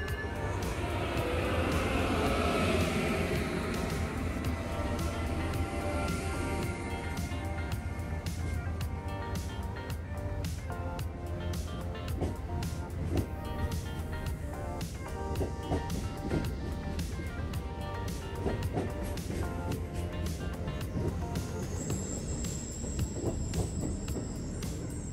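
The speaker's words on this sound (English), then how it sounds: "locomotive 668 throttles up, and train 150 heads north towards Boston" Amtrak locomotive 668 throttles up as Northeast Regional train 150 pulls out heading north toward Boston, a steady loud engine drone and rumble with rising mechanical whine, heard from aboard the train without talk.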